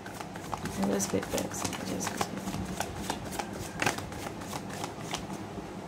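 Steady riffling and shuffling of cards ahead of a card reading, continuous soft flutters and taps close by, with a voice talking over the shuffling.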